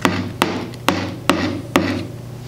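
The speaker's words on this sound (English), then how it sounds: "Okay, hammer it flat here." Five sharp hammer blows strike a drywall anchor, flattening it against the wall, landing at an even pace about half a second apart, close and loud, with no talking.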